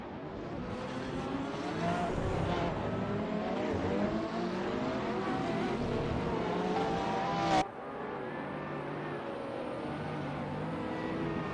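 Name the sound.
hypercars racing at Spa in a racing video game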